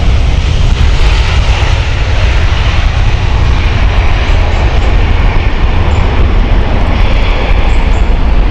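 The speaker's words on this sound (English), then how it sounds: "British Airways 885 from Bucharest, inbound Airbus A320" A British Airways Airbus A320 arrives inbound at Heathrow, its loud, continuous jet engine roar dominating throughout with a heavy low rumble and no letup.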